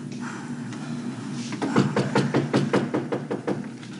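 Someone knocks on a door, a rapid series of about ten sharp raps that sound close and clear.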